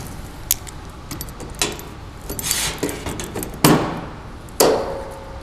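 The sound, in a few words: clamping a Mustang cowl down with Milwaukee vise grips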